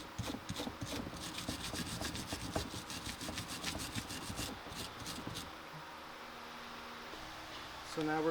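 Rapid scraping and rubbing on the brake caliper bracket of a 2013 Honda Accord, cleaning it before new shims go in, a steady rasping rhythm for about five seconds that then stops, leaving quiet room noise.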